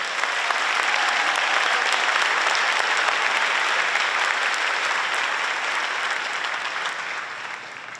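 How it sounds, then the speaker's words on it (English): Round of applause from the audience at a high school graduation ceremony, a broad, even wash of many hands clapping that holds strong for several seconds before slowly tapering. "Let's give them a round of applause."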